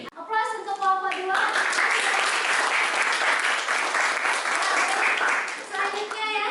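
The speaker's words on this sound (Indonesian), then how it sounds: "Aplaus untuk kelompok 2." Applause in a classroom for a student group, loud sustained clapping from many hands that swells and holds for several seconds, with a voice speaking briefly at the start and as it fades.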